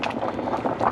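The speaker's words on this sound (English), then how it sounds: "It's pretty aggressively boiling. That's probably all you could hear." Liquid boils aggressively in a pot while bacon-wrapped walleye bites cook, giving a dense, continuous rush of close bubbling and popping at a steady, moderate level.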